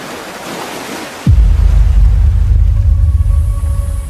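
Ocean waves at sea off Indonesia, where fishermen work: a soft hiss gives way to a loud, close, roaring surf rumble.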